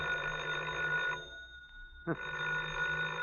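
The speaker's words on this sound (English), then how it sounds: "Oh, the phone again." A telephone bell rings in loud, close bursts, sounding once, pausing briefly in near silence, then ringing again.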